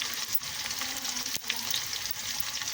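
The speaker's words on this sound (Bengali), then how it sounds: "রসুনটা ঢালবো" Garlic frying in a pan of already fried onions while cooking palak paneer; a steady, close hiss of sizzling oil with a brief stir or clatter partway through, no voices.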